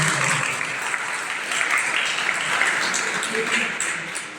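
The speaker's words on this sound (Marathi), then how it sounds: "सर्वांनी मिळून चंदन दादांचं एकदा जोरदार टाळ्या" An audience applauds at a ceremony honoring a guest before a sannyas initiation rite, a dense round of clapping that rises and holds strongly before tapering, with voices mixed in.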